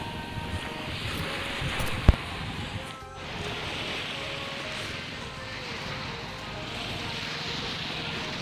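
A steady engine drone and rushing water fill the clip as a boat moves along at sea, with wind noise and a sharp knock partway through.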